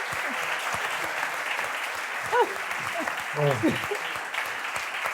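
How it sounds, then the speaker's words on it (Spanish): Studio audience applauding after a book-talk segment with authors Fernando Aramburu, Javier Sierra and Vanessa Montfort, steady moderate clapping throughout with a few voices talking over it. "un aplauso, por favor"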